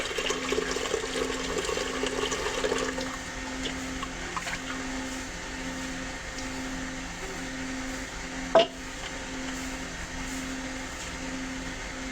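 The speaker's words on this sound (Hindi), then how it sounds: "इसके अंदर 2-3 दफ़ा पानी डाल के इसको करेंगे वाश" Dried chickpeas being rinsed in water for Lahori chana, a steady splashing and pouring in a kitchen for the first few seconds. A quieter water trickle and a single sharp clatter near the end follow.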